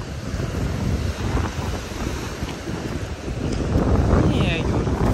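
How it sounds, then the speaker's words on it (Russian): Strong waves from a churned-up sea surge and crash along a Sochi beach near the breakwaters, a continuous close roar buffeted by wind noise on the microphone, with voices talking over it. "море все перебаламучено и очень сильная волна"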